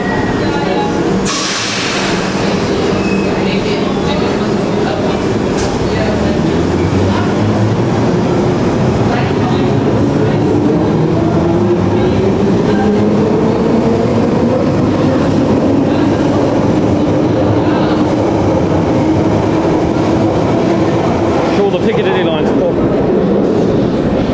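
A London Underground Piccadilly line 1973 stock train runs at speed, filling the space with a loud, continuous roar and rumble, wheel clatter and a rising and falling motor whine, while a voice speaks over it.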